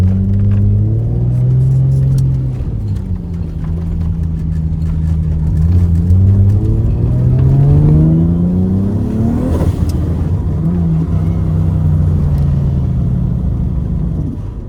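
A race car engine held on a launch stall: loud, close, continuous engine rumble that rises and falls as it is revved in long swells, with no speech.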